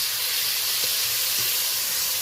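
Desi chicken red eggs and potatoes fry in a pan with a loud, continuous sizzling hiss, close up. A few soft stirring scrapes come through underneath, and no one speaks.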